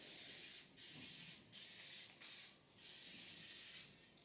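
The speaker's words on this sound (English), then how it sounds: "with the addition of a little olive oil spray" Several bursts of hissing olive oil aerosol spray into a mold, each lasting about a second, separated by short pauses, close to the microphone.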